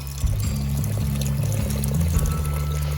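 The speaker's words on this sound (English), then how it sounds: "pour another batch of cold, clean water into our bowl" Cold, clean water pours steadily and heavily into a bowl of oxtail at close range, a dense continuous gush with gurgling low tones throughout.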